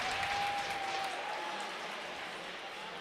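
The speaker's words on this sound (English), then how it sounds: "York faithful applauding that." Hockey crowd applauding steadily at a York vs Loyola state quarterfinal game in an arena, with a faint whistle tone early and the clapping slowly fading.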